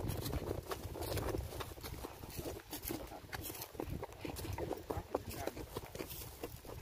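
A horse walks on a farm on a cattle-gathering ride, its hooves clip-clopping steadily and close by with a pony nearby, under a constant rustling background.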